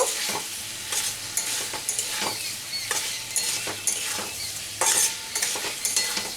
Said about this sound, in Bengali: চিনি দিয়ে একটু মিশিয়ে নেব